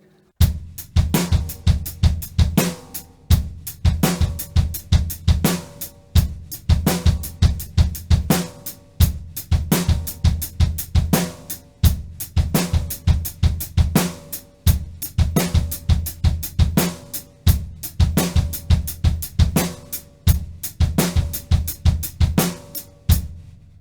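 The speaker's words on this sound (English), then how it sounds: "we've got some offbeat 16th notes rolling along" A drum kit plays a funky groove of rolling offbeat sixteenth notes between hand and bass drum, crisp hits repeating in a tight, even cycle with short pauses between phrases, loud and close with no talking.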